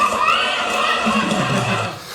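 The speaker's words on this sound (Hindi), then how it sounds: "घोड़ी बाहर बंधी है, बारात भी है।" A mare tied outside during a wedding procession, whinnying loudly and close in one long wavering neigh that falls in pitch, with faint background noise.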